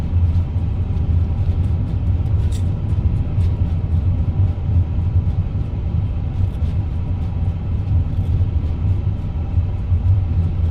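Low, steady rumble of an iniBuilds A350-1000 airliner rolling out on the runway after landing in a flight simulator, a continuous dense roar with no talk over it.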